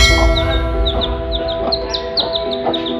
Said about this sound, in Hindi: ये मेरी दूसरी मुर्गी है